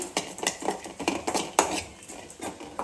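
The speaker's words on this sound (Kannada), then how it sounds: "ಇದಕ್ಕೆ ನಾನು ಬಾದಾಮಿ ಹಾಕ್ತೀನಿ. ಇದನ್ನು ಒಂದು ಸ್ವಲ್ಪ ಫ್ರೈ ಮಾಡಿ" Almonds fried and stirred in a pan make a run of close, rhythmic scraping and clinking taps of a utensil against the pan, repeating about every half second with no talk.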